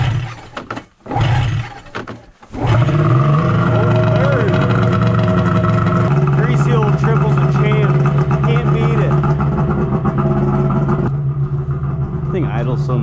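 An old Yamaha snowmobile engine turns over after a couple of pulls and catches, then runs loud and close at a rough idle with a brief rev partway through.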